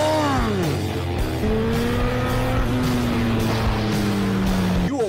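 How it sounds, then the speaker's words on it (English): A motorcycle with a loud aftermarket Akrapovic exhaust rides close by, its deep engine note dropping, then holding and slowly sliding through the revs. "sounding proper too. Love that Akrapovic exhaust on this bike"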